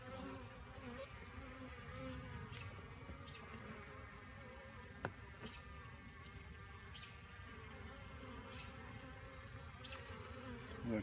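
Dense, steady buzzing of many honeybees swarming close by at an open hive during beekeeping, a continuous insect drone with a single brief tap partway through.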